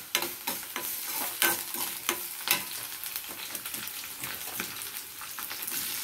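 Onions and curry leaves sizzle in a pan, with steady hissing broken by repeated scraping strokes of a stirring spoon.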